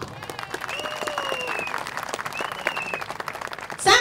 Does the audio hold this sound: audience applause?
yes